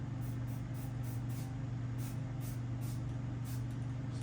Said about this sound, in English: I'm going to spray paint on the other side of them.